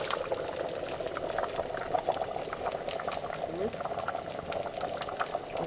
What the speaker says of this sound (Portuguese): Então fervendo bastante e o fogo tá muito bom.